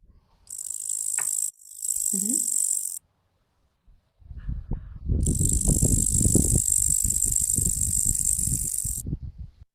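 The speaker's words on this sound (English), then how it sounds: "you could see that it was rubbing its wings together, which is something only crickets do." A cricket on a wind-blown leaf rubs its wings together, making loud, close, high buzzing trills in several bursts with short pauses, while gusts of wind rumble underneath.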